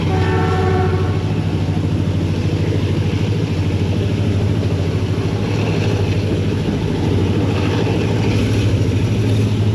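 A Z230 diesel locomotive, number 6326, hauls the Tezgam express on a Pakistani main line, its heavy engine drone steady and loud as it accelerates, with rattling rail noise and a brief high tone near the start.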